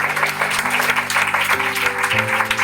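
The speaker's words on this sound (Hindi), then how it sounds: "ताली बजा सकते हैं।" A congregation applauds during an Urdu-Hindi Christian sermon in church, with a steady patter of clapping over sustained organ or keyboard tones that shift pitch, fairly loud and close.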